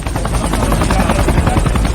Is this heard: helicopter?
yes